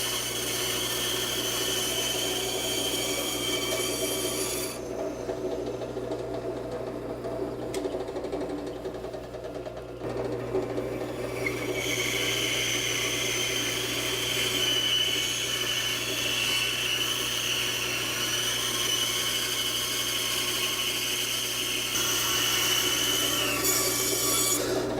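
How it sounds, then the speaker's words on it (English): A bandsaw slices through a wooden burl with a steady, continuous grinding hum, its pitch shifting as the blade bites deeper, running alone with no talk. "take this burl and slice part of it off on the bandsaw"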